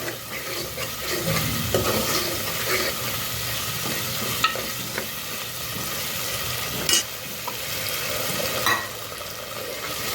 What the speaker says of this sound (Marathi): आता हे परतून घ्यायचं आहे तेल सुटेपर्यंत